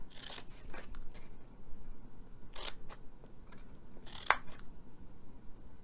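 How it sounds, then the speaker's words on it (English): Scissors cut paper while a Mother's Day gift box is made, giving several separate close snips and crunchy slices spread across a quiet stretch, one sharper cut standing out near the end, with no talking. "So this is the bottom part, and we are cutting these all up."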